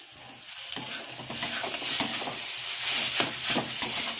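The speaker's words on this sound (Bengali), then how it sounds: "এভাবে কিন্তু আমি হালকা হালকা করে নাড়তেই থাকবো যতক্ষণ না এটা ঝরঝরে হয়ে যাচ্ছে" Semolina upma with curry leaves fries in a pan while a spoon stirs it steadily, giving a soft continuous sizzle broken by repeated close scraping and clinking strokes.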